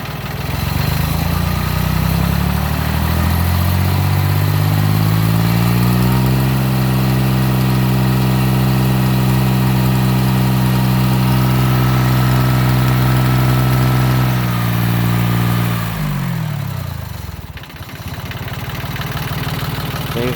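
A 1979-1981 Yanmar YM1610 diesel tractor idles steadily and loud nearby, its low chugging note rising briefly then settling into an even rumble before a short dip near the end.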